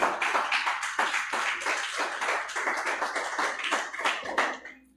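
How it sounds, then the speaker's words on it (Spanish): Church congregation claps in a quick, fairly close round of applause, individual hand claps distinct within the patter, fading out abruptly at the end. "démosle un aplauso al Señor"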